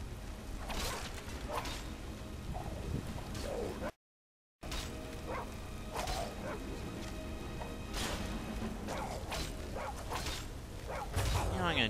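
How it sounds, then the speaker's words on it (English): Dog barking and biting in Skyrim, sharp yips and whimpers scattered across a busy game soundscape with whooshes and combat mechanisms, talk running throughout. "You just got your ass bit by a dog"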